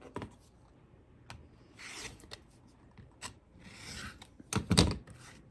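Trimming excess fabric off a quilting half square triangle, with soft scraping and rubbing cuts in short bursts, close and fairly quiet, with no talk.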